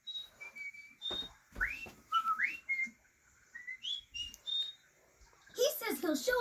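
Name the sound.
cartoon dog whistling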